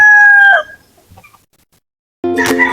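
A large native rooster crows loudly and close by, then a pause with faint rustling before a second loud crow breaks in.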